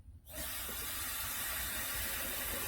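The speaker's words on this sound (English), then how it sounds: "I will go ahead and add water to the pitcher" Water pours into an alkaline water pitcher, starting after a short pause as a steady, broadband splashing hiss that continues to the end.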